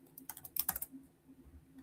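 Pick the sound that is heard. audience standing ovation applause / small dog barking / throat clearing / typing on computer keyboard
typing on computer keyboard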